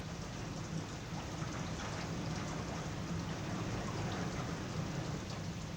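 Steady, dense monsoon rain pours continuously over Barmer, a loud, even hiss of drops striking surfaces with a low rumble beneath, no voices present.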